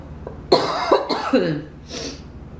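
A person with a cold coughs several times in quick succession, close and fairly loud, the bursts harsh and throaty with a softer one trailing off at the end.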